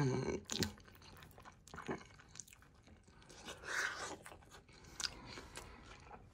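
Bites and chewing on a bacon burger, close and wet-sounding, a few crunchy bites with soft mouth noises and brief murmurs between them.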